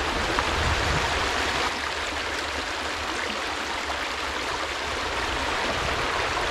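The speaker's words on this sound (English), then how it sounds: "looking at that sluice, it really is running nicely" Water rushes steadily through a gold mining sluice on a Scottish stream, a loud, dense and unbroken wash of flow heard up close with no voices.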